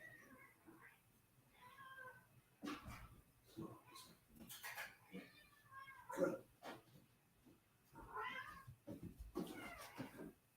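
A cat on a boat meows repeatedly, drawn-out and insistent calls spaced out over a quiet room, fairly close but soft overall.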